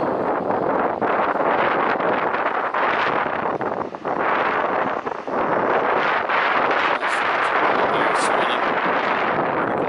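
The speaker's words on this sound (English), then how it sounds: "I'm sure you guys will barely be able to hear me because it's pretty windy." Strong wind buffeting the microphone, loud continuous rumbling roar with gusty surges, and a voice faintly audible beneath it.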